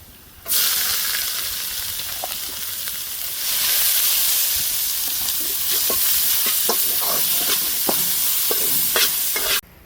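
Onions hit very hot oil in a pan beside garlic and sizzle loudly, a steady bright hiss that intensifies partway through, with stirring scrapes and pops close by.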